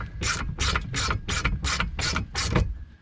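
A 1/4 inch hand ratchet drives screws while building sawhorses, giving seven quick, evenly spaced bursts of clicking as the handle swings back and forth, close and clear.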